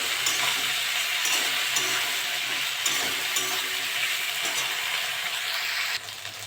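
Taro stolons and shrimp fry loudly in a pan, a dense steady sizzle with scraping stirs throughout that drops slightly near the end.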